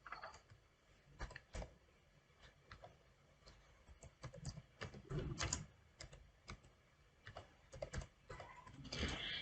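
Keyboard typing at a computer while text is deleted and retyped in Adobe Illustrator, heard as irregular bursts of clicky keystrokes with short pauses, moderately quiet and steady throughout.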